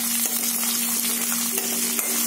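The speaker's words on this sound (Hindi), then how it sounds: "अब प्याज डाल देंगे।" Chopped onions hit hot oil already crackling with cumin seeds, raising a loud, continuous close-up sizzle with no voices.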